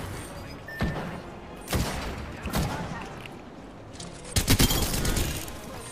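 Havoc rifle fire in Apex Legends comes in several sharp bursts of gunshots with booming impacts, spaced a second or so apart, with a denser cluster of shots near the end.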